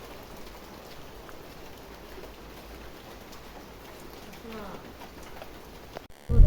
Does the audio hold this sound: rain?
yes